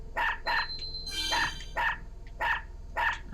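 Dog in the game Unepic barking six times in a steady, evenly spaced rhythm, sharp and close, with a short electronic chime between the second and third barks.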